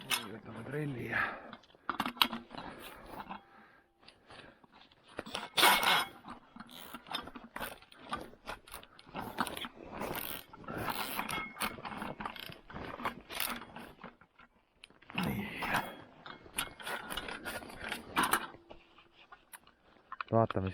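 An ice drill bores a fishing hole through ten-centimetre-thick river ice, grinding and ratcheting mechanically in uneven bursts with short pauses, close by, while voices talk now and then.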